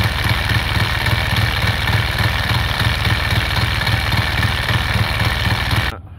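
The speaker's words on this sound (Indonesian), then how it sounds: "Rupanya boleh juga orang kata apa bunyi dry clutch yang sebenar." Yamaha Y15 motorcycle fitted with a dry clutch idling close up, a loud steady low throb with a rattling clutch chatter, cutting off abruptly near the end.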